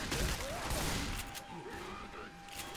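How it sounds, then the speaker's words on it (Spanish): Shotgun fire in Left 4 Dead 2, heard as repeated loud bursts of gunfire in a busy game mix, with voices talking over it. "Con mejor esa escopeta"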